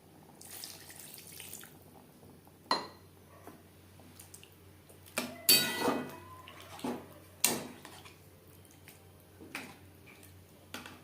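Water is poured into potol curry in a pan, with a few splashy bursts and sizzling swishes separated by quieter gaps, close and moderately soft.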